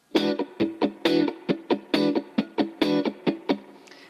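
Choppy funk electric guitar strumming in quick even sixteenth notes, ringing chord hits alternating with muted scratches, close and steady.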